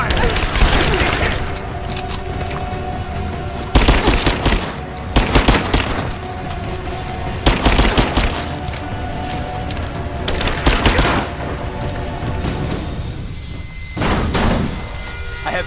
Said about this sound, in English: Laying down covering fire!